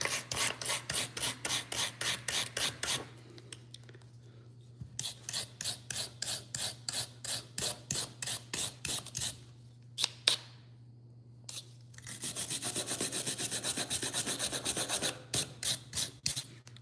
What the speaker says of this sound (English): This is a metal brush.